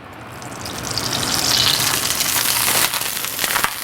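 Salmon fillets go into a pot of very hot olive oil and sear with a loud, close hiss and crackle that builds and sizzles steadily, with a few sharper pops near the end.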